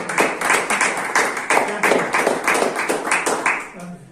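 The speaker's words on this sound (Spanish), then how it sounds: "Yo quiero un aplauso" Applause for an author at a literary talk and reading, a small audience clapping steadily in rhythmic bursts for about four seconds before tapering off.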